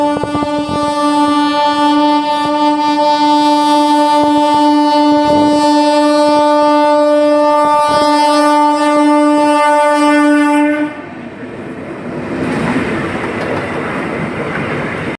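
An express train sounds a loud, sustained horn blast for about ten seconds, then its heavy rumble rolls on alone.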